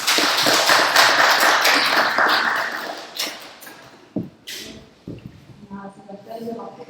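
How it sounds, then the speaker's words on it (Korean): An audience at a seminar applauds loudly at first, and the clapping fades out after about three seconds, leaving scattered taps and a voice starting to speak. "큰 박수 부탁드리겠습니다."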